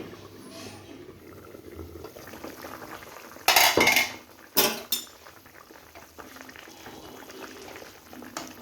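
A pot of bean, potato, tomato and fish curry bubbles softly at the boil, then a metal lid clanks down onto it in two sharp, loud knocks before the quiet simmer continues.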